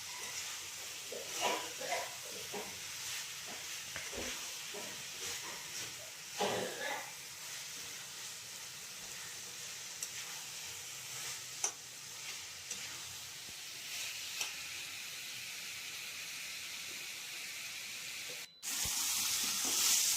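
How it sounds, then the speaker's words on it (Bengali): Masala for a boal fish curry fries in a pan with a faint, steady sizzle and occasional stirring scrapes, heard at low level throughout, with a sharp clatter near the end. "ভালো করে কষা চলছে, সুন্দর করে কষিয়ে নিতে হবে।"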